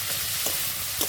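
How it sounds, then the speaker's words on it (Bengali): Shrimp fry in mustard oil in a kadai, a dense close sizzle broken by a couple of soft scrapes from stirring. "চিংড়ি মাছগুলো ভাজা ভাজা হয়ে গেছে,"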